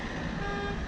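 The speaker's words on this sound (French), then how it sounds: "Un klaxon encore une fois, je klaxonne moi aussi." Car horns blare in traffic around a BMW E30, a sustained steady tone lasting the whole moment over low road rumble.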